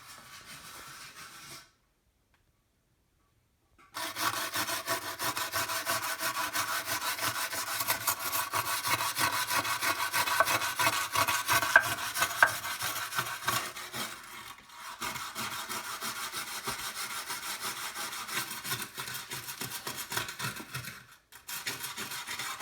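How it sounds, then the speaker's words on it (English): Rag wiping oil off the valve cover rails of a 1979 Chevy Camaro with lacquer thinner, a continuous close scrubbing and rubbing sound in long strokes, with brief pauses. "We're just going to come along and wipe the rails off with a little bit of lacquer thinner"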